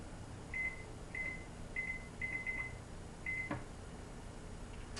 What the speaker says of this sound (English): Put the meatloaf there in the center and set the timer.